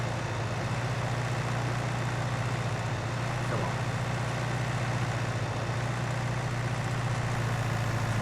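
A tractor runs a baler pickup in Farming Simulator 19, giving a steady, loud, low engine drone with a constant mechanical hum throughout, while a voice briefly speaks over it.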